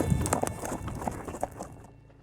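Horses loping on a trail ride, their hooves drumming a fast, uneven clip-clop close by that fades and thins out toward the end.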